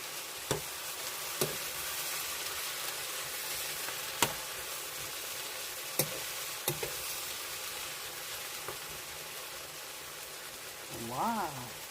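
Squash and pork stir-frying in a pan give a steady close sizzle, broken by a few sharp clicks and scrapes of a utensil, with a short voice-like sound near the end.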